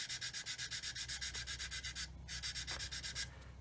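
Fine sandpaper rubs back and forth on a 1/32 scale model Humber radiator to remove black paint and marker, a close, steady rhythmic scratching of about two strokes per second with a brief pause midway.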